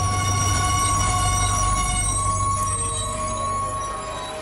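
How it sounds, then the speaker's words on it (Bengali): A train rolls into a station and slows toward a halt, with steady rail rumble, a low droning hum and faint metallic squeal tones sustained throughout, easing slightly in loudness near the end; no voices. "ইতিমধ্যেই ট্রেনটা একটা স্টেশনে এসে দাঁড়িয়েছে"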